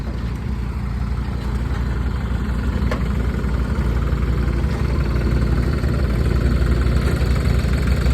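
A New Holland tractor engine fitted with a turbo runs steadily at idle, a close, continuous low rumble with mechanical vibration and no talk.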